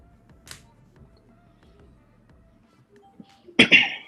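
A single sharp sneeze bursts out suddenly near the end, loud and close, after a quiet stretch of faint low rumbling and soft clicks.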